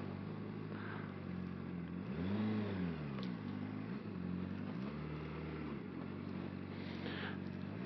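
A 2013 Honda CBR600RR motorcycle rides on a road, its engine droning steadily and swelling through a few revving rises and falls, heard close with wind rush and no talk.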